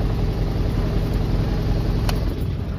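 A Bharat Benz 1617 truck with a 3,907 cc fuel-injection engine idles steadily, a loud, even, low diesel rumble close by with no talk over it.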